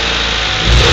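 A 1992 Eagle Talon engine with an ignition fault runs rough and loud up close, a dense engine roar that swells into a heavier surge near the end as gas is given.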